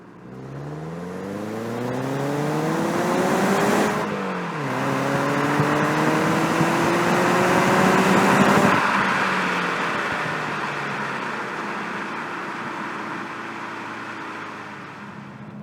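A 2020 Mazda 3 Skyactiv-X 100th Anniversary Edition with a naturally aspirated engine accelerating through the gears, rising engine tones with shift dips, then settling into steady cruising road noise.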